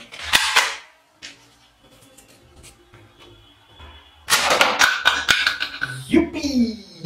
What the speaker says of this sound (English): Wow, super powerful toy gun.